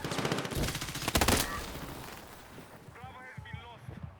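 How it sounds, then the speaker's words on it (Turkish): Loud bursts of gunfire and a blast rumble up front in a Battlefield 6 multiplayer battle, followed by quieter scattered shots and squealing mechanical whines, with a voice speaking briefly in the mix. "Bomba attı."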